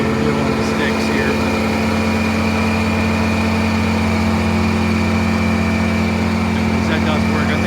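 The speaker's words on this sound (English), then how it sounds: "air compressor does work as it should" The air compressor on a 2019 Freightliner M2 knuckleboom tire repair truck runs alongside the engine, giving a loud, steady droning hum with a low pulsing rumble, close by and unbroken.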